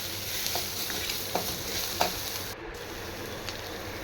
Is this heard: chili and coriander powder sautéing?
yes